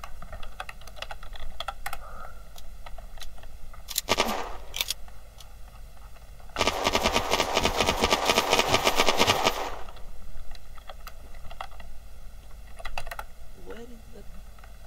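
Shadow Stalker gun fire in the Unturned video game, a dense rapid burst of shots lasting about three seconds after a couple of brief earlier pops, with clicking and faint voices around it.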